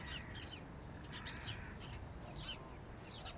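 Crows and other birds chirp and call in short bursts over a steady rumble of outdoor background noise, fairly faint and at some distance.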